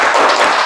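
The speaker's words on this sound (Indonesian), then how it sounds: "Coba tepuk semangat." A school class doing the 'tepuk semangat' clapping chant, a short loud burst of many hands clapping together in a classroom.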